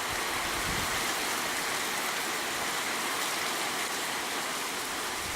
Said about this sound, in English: Yeah, rain waves because of the wind.